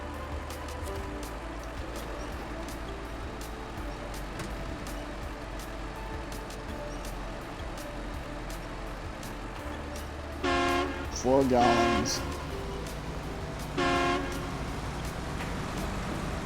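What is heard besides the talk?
truck horn honking in the video game SnowRunner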